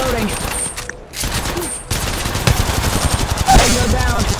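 Rapid automatic gunfire in the mobile shooter Apex Legends Mobile, dense bursts of shots over a busy battle mix with a brief lull near the start, loud and continuous with a voice heard faintly underneath.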